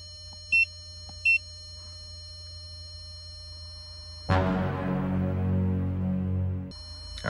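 After the ignition is switched on, an Audi gives two short electronic warning beeps, then after a pause a louder, sustained tone with a broad rumbling wash that lasts a couple of seconds before stopping.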